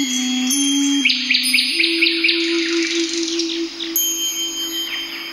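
A bird sings a bright string of rapid chirps and trills over a steady whistled tone, fairly loud and close, with no talking.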